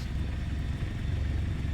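A C-47's radial piston engine running in Microsoft Flight Simulator 2020, a steady, dense low rumble with a pulsing throb that holds even and unbroken throughout, heard alone with no talking.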